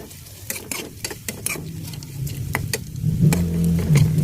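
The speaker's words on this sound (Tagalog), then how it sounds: "Haluin lang natin siya guys para hindi siya masunog." Shrimp being stirred in a frying pan for a tomato omelette dish, with scraping and tapping of a utensil over a soft sizzle that grows louder toward the end, without talk.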